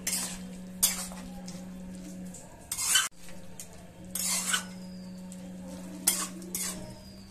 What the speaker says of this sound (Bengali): হলুদ দিয়ে এবার ভালোভাবে নাড়িয়ে আবার ঢেকে দেব